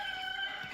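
Young Buff Orpington chickens hatched from eggs give a brief, faint, steady chirping peep, soft and close with no talk.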